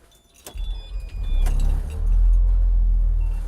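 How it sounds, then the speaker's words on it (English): A diesel school bus engine starting: a few clicks and a brief electric whine, then the engine catches and settles into a loud, deep, steady idle rumble. "When that goes out, I'm able to start the bus."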